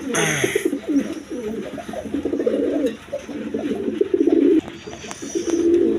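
A pair of high-flying Giribaz pigeons coo in soft, repeated throaty phrases, sounding close and steady, with a brief flutter or rustle at the start.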